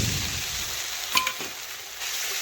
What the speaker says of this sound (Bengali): এখন এটাও ভালোভাবে খুরপি দিয়ে নাড়াচাড়া করে আমি দেখুন একটু ভেজে নিচ্ছি